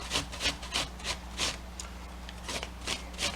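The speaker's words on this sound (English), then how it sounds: "We're going to grate up some apple." An apple is grated on a full-size box grater, each long stroke giving a rasping scrape, about a dozen in an uneven rhythm, close and moderately loud with no talking.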